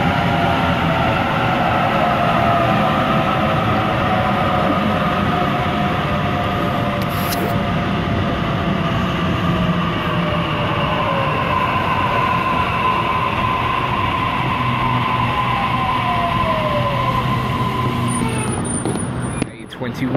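A Sydney commuter train on a Richmond service runs between stations near Pennant Hills, a loud steady rumble of wheels and motors heard from inside the carriage with squealing tones, while an automated announcement speaks over it.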